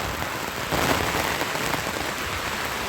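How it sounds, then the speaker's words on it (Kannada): Heavy rain pours down in a dense, continuous broadband hiss of drops hitting surfaces, steady and loud, with no voices. "ಜೋರು ಮಳೆ ಬರ್ತಾ ಉಂಟು"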